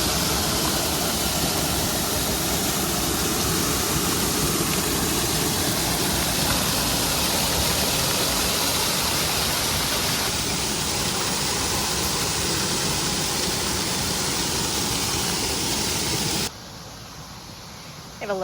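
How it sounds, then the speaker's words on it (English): A waterfall pours steadily into the Clarion River, a loud, unbroken rushing roar that holds evenly before dropping away abruptly near the end. "The waterfall kind of goes out into it."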